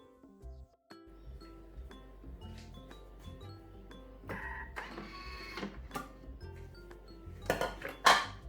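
Garlic and herbs are chopped in a Thermomix at speed 7, a quiet whirring blade with rattling clinks against the bowl that builds into louder bursts toward the end.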